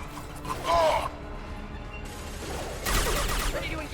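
Video game gunfire during a shootout: a short burst of rapid mechanical shots, a quieter stretch, then a louder, denser volley near the end, all fairly faint and without talk.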